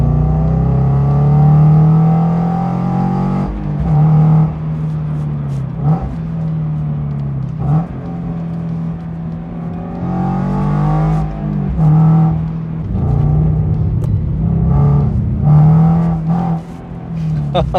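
Toyota GR86 2023 engine droning steadily and loud while driving on the street, with a few brief rises in revs, as a person talks over it throughout.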